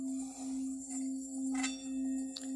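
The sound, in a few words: machine-made Japanese Tibetan singing bowl ringing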